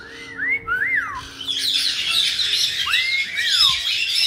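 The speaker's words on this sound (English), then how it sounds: "Where'd the birds go?" Pet birds in an indoor bird room giving clear rising and falling whistled chirps, close and moderately loud, with a bright twittering chatter filling the middle of the stretch.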